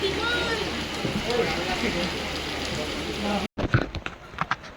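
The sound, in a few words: heavy rain with storm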